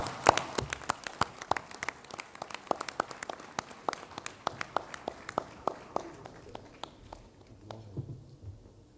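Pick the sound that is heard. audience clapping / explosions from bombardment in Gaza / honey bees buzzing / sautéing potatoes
audience clapping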